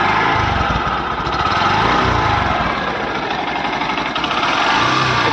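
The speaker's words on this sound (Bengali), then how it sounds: "এক্সস্ট সাউন্ডটা শুনুন।" Exhaust note of a Honda Shine 100cc motorcycle, a steady close putter with rapid firing pulses and slight swells in level, heard alone for a few seconds.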